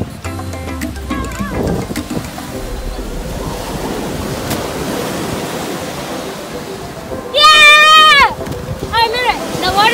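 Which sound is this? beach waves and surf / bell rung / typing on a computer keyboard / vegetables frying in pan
beach waves and surf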